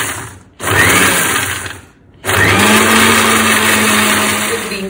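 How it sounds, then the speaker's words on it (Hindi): An electric mixer grinder whirs steadily while grinding green chutney (thecha) for vada pav, loud and close, cutting out briefly for about a second before starting again with a rising motor whine. "मैं मिक्सर में कर रही हूँ, but you can do it in the खलबत्ता, mortar पेसल"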